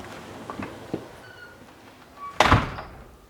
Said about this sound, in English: Garage entry door.